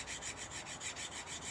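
An 80 grit abrasive rubs back and forth over the damaged tip of a tanto knife, rasping in a steady rhythm of about six strokes a second, close up and fairly quiet, with no speech.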